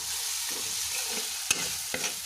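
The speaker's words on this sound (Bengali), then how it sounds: "এবারে আমি এর মধ্যে রসুন বাটা 1 চামচ, আদা বাটা 1 চামচ দিয়ে ভালো করে নেড়ে দেব।" Garlic and ginger paste stirred into chopped onion in a hot frying pan, a steady soft sizzle with a couple of sharp spatula clacks against the metal, close and alone.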